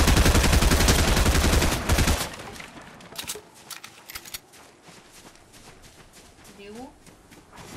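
Rapid bursts of gunfire in the video game Fortnite, a dense loud volley at first, then scattered sharper single shots and clicks, with people talking over it.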